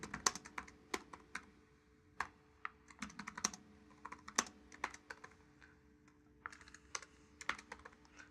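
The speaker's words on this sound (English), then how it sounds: "let me try typing some queries." Quiet, close keystrokes on a computer keyboard as SQL queries are typed, irregular clusters of crisp clicks with short pauses between bursts, no talking.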